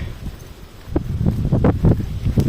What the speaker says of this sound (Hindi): देखो हवा चलती है